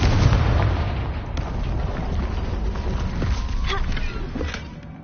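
Confringo spell explosions in a PS4 video game, debris scattering: a dense, loud burst of blasts and rumbling crashes that trails into clattering debris, without talk.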